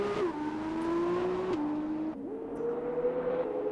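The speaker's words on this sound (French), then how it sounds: "Pendant que c'est tranquille, on va aller voir un petit peu Chief rouler." A race car in a racing video game on the Abu Dhabi circuit, heard as a steady close engine whine whose pitch climbs and drops sharply through gear changes, with no voices.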